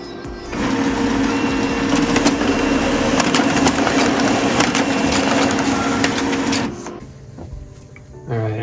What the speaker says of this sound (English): next we're gonna print the network configuration page